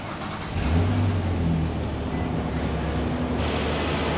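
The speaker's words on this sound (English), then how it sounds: "We're going to put the key in the on position, turn it right back off, and then we can continue on to starting the vehicle." A 2009–2014 Nissan Maxima 3.5L V6 catches after a long crank following fuel pump module replacement, settling into a steady, close idle hum with no talk.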